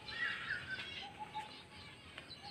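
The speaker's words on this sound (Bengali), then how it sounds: "পায়রাগুলো এখনও উঠছে" Pigeons flying over a rooftop, faint airy wing flutter with light chirps in a quiet distant setting.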